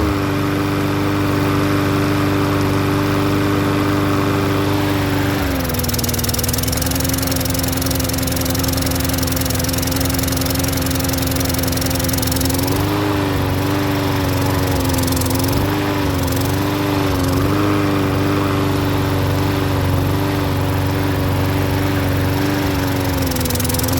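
Troy-Bilt lawn mower engine running loud and close with a steady drone, briefly dipping and wavering in speed as if surging before settling back into a continuous run.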